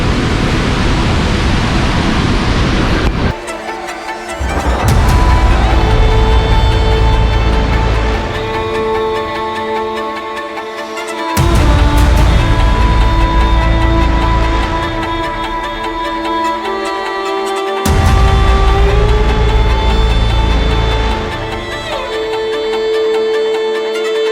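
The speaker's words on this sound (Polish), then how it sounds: "Cieszę się, że udało mi się odwiedzić ten słynny wodospad" Dettifoss waterfall in Iceland roars as a dense, continuous wash of loud rushing water, with the steady noise swelling and dipping slightly in a few places.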